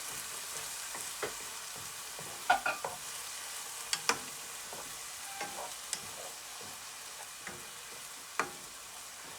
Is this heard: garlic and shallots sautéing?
yes